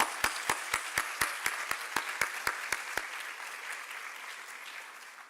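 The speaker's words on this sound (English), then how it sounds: "Can we give her a round of applause, please?" An audience applauds at a Bharatanatyam arangetram dance performance, with a few sharp, evenly spaced claps standing out for about three seconds over a steady wash of crowd clapping that slowly fades.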